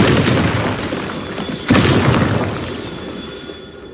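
A Bombardo blasting spell in Hogwarts Legacy goes off as one sharp, loud explosive burst midway through, set against a continuous rumbling roar that gradually fades away.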